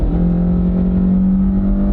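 Car with an intelligent variable transmission accelerating at full throttle from around 40 mph, a loud, steady engine drone with a sustained low hum and road noise, heard close from inside the cabin.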